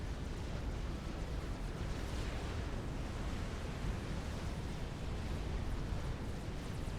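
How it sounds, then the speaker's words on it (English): Deep, rumbling explosion noise in a multiplayer video game match on Selkie Isle, a sustained low roar of blasts filling the background with no talk. "That sounds like an explosion, I just don't know where that happened."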